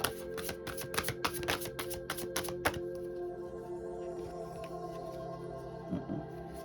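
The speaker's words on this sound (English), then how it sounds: "I shuffled this deck" Tarot cards are riffled and shuffled in quick bursts, then the handling quiets to soft rustling and a few light taps.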